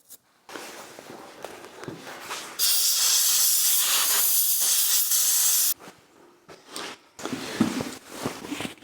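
Cleaner sprays into the recoil of a Briggs and Stratton engine from a Brutus power roller in a steady, loud, close hiss lasting about three seconds, with workshop handling noises before and after and a shorter spray burst near the end.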